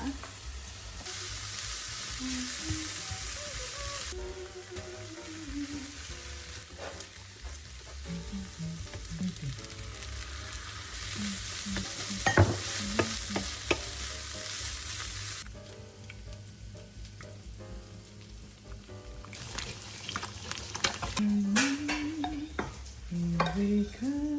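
Kimchi fried rice stir-frying with a pat of butter in a pan, a steady close sizzle with repeated scraping and stirring of a utensil against the pan.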